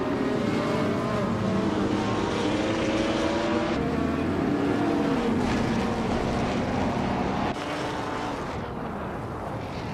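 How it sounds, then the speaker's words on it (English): A 1960 Scarab Indy race car in a racing game, its engine droning steadily at high revs with shifting pitch, loud and continuous, dipping slightly near the end. "Shoebox TV is driving a 1960 Scarab Indy"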